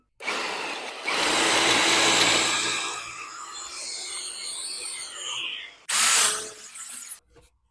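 Power drill with a 20mm auger bit boring into wooden sleepers for a pond build, a loud whining bite into the wood that winds down into a grinding rasp, then a short second burst.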